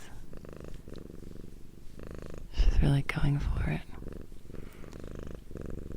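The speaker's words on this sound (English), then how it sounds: "we're going to get a lot of cat purring noises" A cat purrs steadily up close, a soft rumbling drone, while a person speaks quietly over it.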